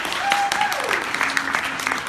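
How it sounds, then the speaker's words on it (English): A short burst of audience applause for volunteers at a scouting recruitment night, fairly loud clapping from a room of people, with a thin high whistle-like tone running through its first half. "let's give them a round of applause once again"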